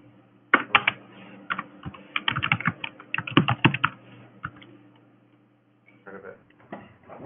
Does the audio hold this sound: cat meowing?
no